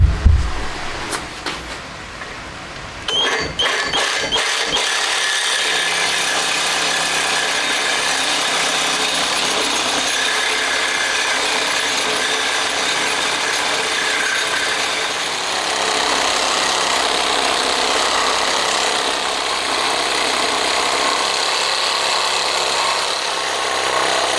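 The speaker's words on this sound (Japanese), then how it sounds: "さて、じゃあ湯道切ってきますね。" A power tool grinds through the sprue of a metal casting, starting after a few sharp clatters and then running as a loud, steady cutting whine for about twenty seconds, with no talk.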